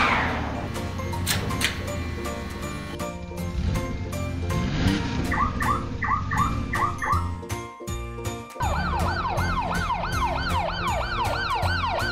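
A black toy police car sounds its siren: a jingly electronic backing first, then fast, repeated wailing sweeps that rise and fall loudly over the last few seconds, with no talking.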